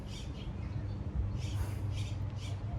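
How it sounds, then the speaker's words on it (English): Birds sing in backyard trees, with scattered high chirps and short song phrases over a steady low rumble, moderately distant and fairly faint. "If you hear the birds, you may think that I'm in the motherland right now."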